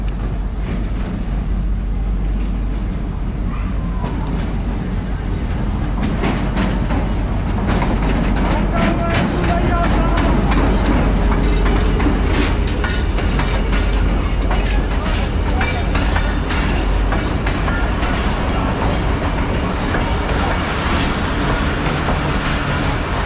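Chenab Express passenger train drawing into Sargodha Junction station in Pakistan, a loud continuous rumble with rattling and clatter of cars that grows slightly over the span.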